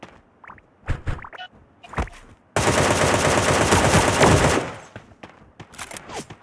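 Video game gunfire: scattered single shots, then a dense, loud automatic burst lasting about two seconds before tapering into a few more scattered shots.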